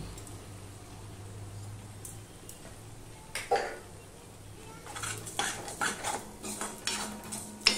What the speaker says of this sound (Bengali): চিনিটা দিয়ে আমি আরেকটুখানি কষিয়ে নেব